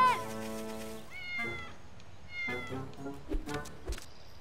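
Falafel, a cartoon cat, gives a long drawn-out meow followed by a few shorter meows and cries, fairly close, with light background noise.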